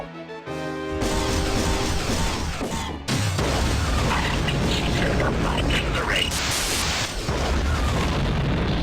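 Spaceship explosions from friendly wingman fire in Wing Commander: Standoff, heavy booming blasts and crashing bursts layered over continuous loud space-combat noise.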